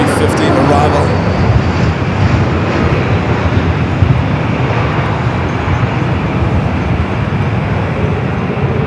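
An Airbus A350-900 arriving on the south side runway at Los Angeles International Airport, a loud continuous roaring rumble of jet engines holding steady throughout, with faint crackle on top.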